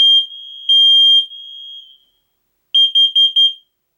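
A combined carbon monoxide and smoke alarm runs its fire alarm test with loud, piercing high beeps: three long tones, a pause, then a rapid burst of four short beeps, all close with no talk.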